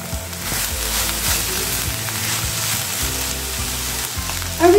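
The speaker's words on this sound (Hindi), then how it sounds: "हम सब्जी को हल्का भूनेंगे।" Vegetables sizzle steadily in a hot pan while being lightly sautéed for homemade pasta made from leftover wheat dough, a close continuous crackle with occasional stirring movement and a sharper clink at the very end.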